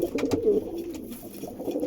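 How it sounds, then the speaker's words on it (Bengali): A pair of Andhra Star Kalanka pigeons coo close by in a loft, giving low, warbling throaty calls that rise and fall over under two seconds. "টপ ক্লাস জোড়া, শখ করুন পায়রা।"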